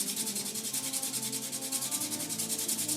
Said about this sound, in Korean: 다듬느라 맨질맨질해진 면을 사포로 거칠게 만들어 줍니다.